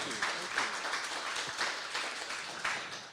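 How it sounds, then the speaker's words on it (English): An audience at a winery songwriter show applauds for the kitchen and bar staff, a dense steady wash of clapping from many hands throughout. "Could I ask all of you to just give a quick round of applause for our hardworking team"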